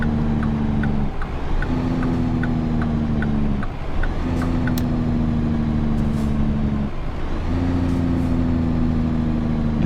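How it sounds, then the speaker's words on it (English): Truck engine braking in American Truck Simulator: a loud, steady low engine drone that cuts out and returns in several long sustained bursts, with a faint ticking and higher hiss on top and no talk. "Yeah, there's that engine brake sound I was talking about earlier."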